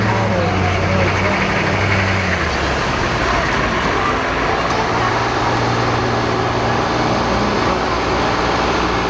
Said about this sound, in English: Some more tractors coming along.